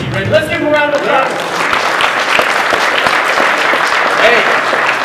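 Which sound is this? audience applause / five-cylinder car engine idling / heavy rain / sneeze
audience applause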